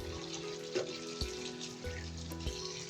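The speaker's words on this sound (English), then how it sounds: "This is my second rinse" Salted vegetables for Penang acar are rinsed in water, a quiet splashing and trickling with a few soft knocks and clinks against the bowl.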